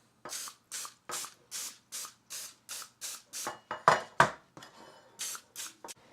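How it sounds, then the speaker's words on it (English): A series of short cooking spray bursts onto a muffin pan, about a dozen quick hisses in a steady rhythm, with a few faint metallic clinks in between. "And I will give these a light spray."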